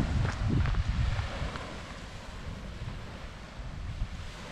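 Sea waves wash against the coast at Fukuoka, a steady broadband roar of surf mixed with wind buffeting the microphone, loudest in the first second and then settling into a constant, moderately loud wash with no voices.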